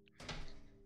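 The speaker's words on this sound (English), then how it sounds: "Oh, I just broke the secret cupboard." A secret cupboard door breaking in the video game Breaking Stuff: a single sudden crunching thunk followed by a sustained rattling, near and fairly loud, with no talk over it.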